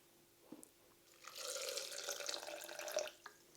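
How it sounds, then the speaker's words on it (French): Filtered water pours into a small bowl for a quick soup, a soft steady close splash lasting a couple of seconds after a faint tap, with no talking. "On va rajouter de l'eau filtrée"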